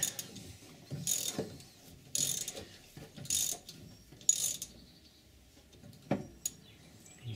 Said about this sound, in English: So we'll get the stud extractor on the top, give it a little twist.